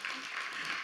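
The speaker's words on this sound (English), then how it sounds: "Okay, yes, we can clap" Faint, steady clapping from a church congregation fills a brief moment after a healing prayer, distant and even.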